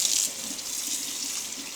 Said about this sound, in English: you're going to wash it off in cold water